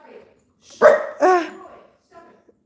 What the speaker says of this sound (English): I'm dealing with a barking dog in the background